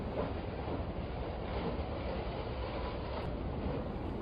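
Passenger train running on the tracks, a constant loud rumbling roar with faint rhythmic rattle, heard from inside with no talk.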